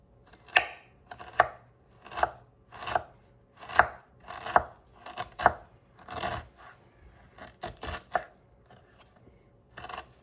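A knife chopping through food on a board while a Jamaican-style sorrel drink is prepared, about a dozen crisp, close cuts in an uneven rhythm, each with a short thud and no talking.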